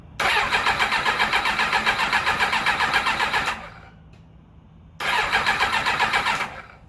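A Kawasaki ZXR750 Turbo motorcycle engine, long unused, is cranked over by its starter in two bursts: a steady churning run of about three seconds, a pause, then a shorter second crank, loud and close.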